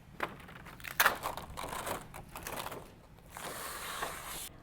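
A plastic wall stencil peels off a painted wall, giving crinkly, crackling tearing bursts followed by a longer, steadier rustling peel, close and fairly quiet.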